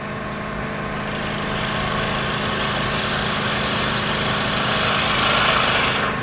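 A wood lathe spins a workpiece during a skew chisel lesson, giving a steady, smooth motor whine and hum that holds loud and constant close by, with no talking.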